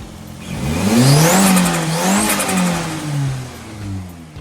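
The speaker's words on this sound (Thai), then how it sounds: "อยากเบิ้ลแบบวัยรุ่นน่ะคุณเบิ้ลแบบวัยรุ่นดิ" A turbocharged pickup engine revs hard several times, its pitch climbing and falling in loud, close bursts with no one speaking.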